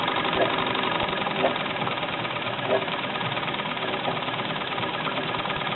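A 1965 Mamod TE1 model steam engine in original condition runs on a Meccano rolling road, with steady rumbling and knocking beats repeating at an even rhythm, heard close up.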